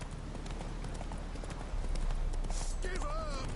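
Roach the horse gallops in a video game, rapid rhythmic hoofbeats running steadily under a voice urging the horse on.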